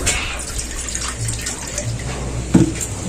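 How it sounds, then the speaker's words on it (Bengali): Water pours steadily into a bowl in a kitchen, a continuous close splashing trickle with a brief louder gurgle near the end. "আমি এই যে এখানে একটু জল দিয়ে দিচ্ছি একটা বাটির মধ্যে"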